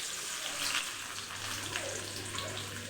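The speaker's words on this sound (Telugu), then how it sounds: "ఫస్ట్ అయితే ఆనియన్స్ వేసుకుందాం." Chopped onions hit a hot pan for Maggi noodles, giving a steady close hiss of frying that runs without pause for a few seconds.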